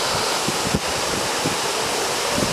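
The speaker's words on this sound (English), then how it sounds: "I don't know if that thundering water is coming across the microphone, but wow, that is loud." Water thunders over a lake spillway in a loud, steady outdoor roar of rushing water, close to the microphone with no talk.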